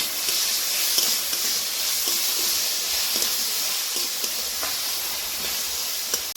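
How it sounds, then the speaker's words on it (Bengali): Constant loud hiss of chopped tomatoes frying in a pan, steady and close, with small pops and a few faint clicks. "টমেটো কুচি সব কিছু দিয়ে ভালো করে একটু ভেজে নেব"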